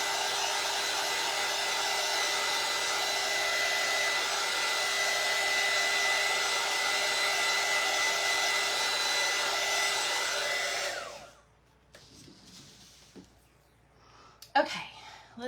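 A handheld hair dryer blows over a craft transfer to dry it, a steady close whooshing roar for about eleven seconds that then cuts off, leaving small handling noises and faint movement.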